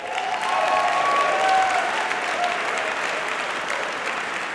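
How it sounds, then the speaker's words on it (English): Applause from a gala audience at a Forces For Nature benefit event, a full, sustained round of crowd clapping that swells and then gradually eases, with no speech over it. "Let's give them a round of applause."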